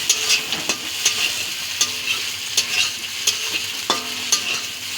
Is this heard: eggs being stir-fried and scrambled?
yes